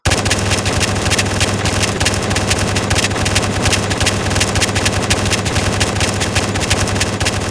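Automatic gunfire rattles nonstop in a 200-player multiplayer game set in an endless IKEA store, a dense, loud, rapid-fire volley that keeps going without a break, like a firing squad opening up together.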